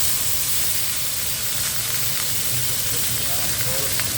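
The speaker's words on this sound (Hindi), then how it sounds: "उसी तड़के के नए बर्तन में मैं मछली के पीसेस करके डाल रहा हूँ, छोटे छोटे" Small fish pieces sizzle loudly in hot tempering oil in a fresh pan, a dense, even frying hiss that runs unbroken from start to finish.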